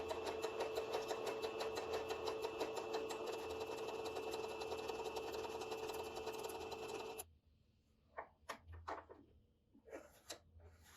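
A sewing machine runs steadily for about seven seconds, stitching elastic lastex thread into fabric so it gathers, then stops, leaving a few faint handling clicks and knocks.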